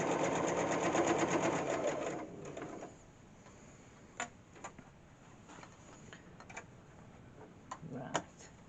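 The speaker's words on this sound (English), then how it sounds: "Make sure you are not stitching the folds in where they shouldn't be." A flatbed sewing machine stitches a sleeve in a fast, steady mechanical whir for about two seconds, then stops, leaving light clicks and soft handling noises of the fabric.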